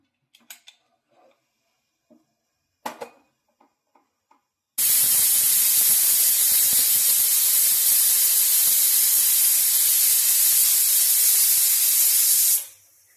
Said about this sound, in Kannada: ಕುಕ್ಕರ್ ಮುಚ್ಚಿ 3 ವಿಸಿಲ್ ಆಗಲಿ.